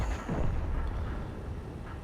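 A tank gun fires from a T30 heavy tank in a tank video game, a heavy close boom near the start that rolls into a long, low rumbling tail.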